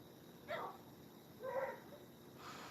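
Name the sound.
dog barking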